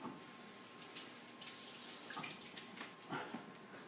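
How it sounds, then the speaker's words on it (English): Tap water runs steadily over fresh asparagus spears being rinsed at a kitchen sink, a soft continuous splashing with a few brief louder bursts, fairly close and with no talking. "Gonna give them a rinse."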